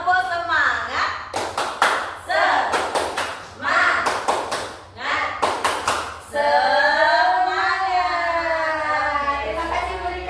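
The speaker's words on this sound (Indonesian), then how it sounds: "yuk semuanya tepuk semangat" A group at a kindergarten teachers' gathering does a rhythmic spirit clap: several quick bursts of claps in patterned sets, close and loud, with voices chanting along, followed by a stretch of lively talk.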